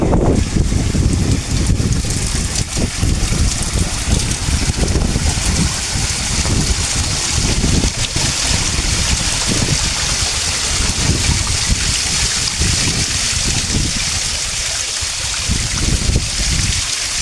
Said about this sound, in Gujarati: અત્યારે વરસાદ થોડોક ધીમો છે